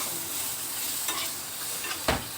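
Chopped raw mango being sautéed in a hot pan, a steady close sizzle with stirring scrapes throughout and a sharper clatter near the end.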